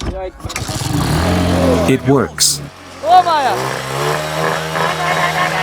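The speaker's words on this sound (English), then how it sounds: "this is the engine from the Honda Hero. Watch how it starts." A homemade motorcycle fitted with a Honda Hero engine cranks, catches and settles into a steady idle, loud and close, while people talk over it.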